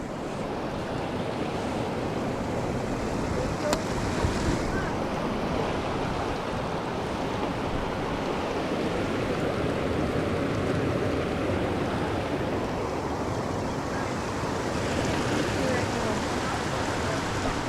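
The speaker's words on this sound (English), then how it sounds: "we got to go across the river" A mountain river near Lake Blanche and Sundial Peak rushes steadily, a dense, constant roar of flowing water heard up close for the whole stretch, with wind noise mixed in.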